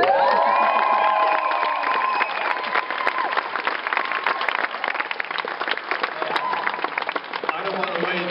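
Audience applause and cheering for a band fill the whole stretch, loud and continuous, with whoops and shouts over steady clapping and a voice briefly audible at the start.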